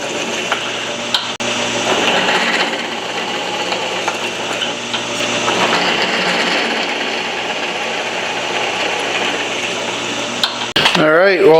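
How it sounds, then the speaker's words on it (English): Drill boring 3/8-inch bolt holes through a steel plate for a Shovelhead bobber rebuild, a sustained loud grinding whine with slight load changes, briefly cut off near the end by a short burst of other noise. "drill out these holes to a 3/8 through bolt."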